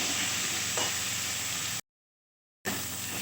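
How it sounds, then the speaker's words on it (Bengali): Hand-ground spice paste fries in a pan for a cabbage curry, a steady close hiss with a faint stir, cut by a short total dropout before the sizzle resumes. "একটু মশলাটা আমি ভেজে নিচ্ছি ভালো করে।"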